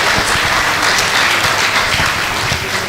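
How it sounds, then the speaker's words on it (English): Audience applause at a valedictory lecture held in honour of a retiring professor, a dense, steady round of clapping filling the hall at close range, sustained throughout with no voices over it. "please another round of applause"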